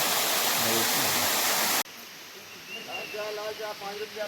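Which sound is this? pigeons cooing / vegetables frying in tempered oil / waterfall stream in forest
waterfall stream in forest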